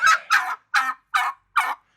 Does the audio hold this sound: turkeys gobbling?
yes